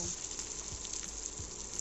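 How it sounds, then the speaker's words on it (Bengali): Spice paste with turmeric frying in oil, stirred steadily for duck curry, a continuous close sizzle with a few soft scraping strokes of the spoon and no talking. "আমি মশলাটা ভালোভাবে কষিয়ে নেব। তেল না ওঠা পর্যন্ত নাড়তে থাকব।"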